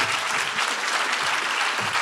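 An audience at a global health leadership event applauds a group of emerging women leaders, many hands clapping in a thick, steady burst that holds at one level throughout.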